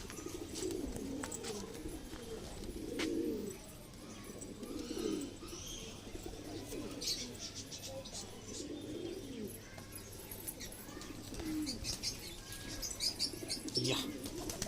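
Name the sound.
pigeons cooing and flapping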